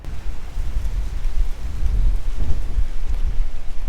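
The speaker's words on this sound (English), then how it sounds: "this wind is doing its thing" Strong wind blowing outdoors beside a bank during bass fishing, a loud low rumbling gusty roar buffeting close to the microphone, swelling and surging unevenly for the full few seconds with no speech.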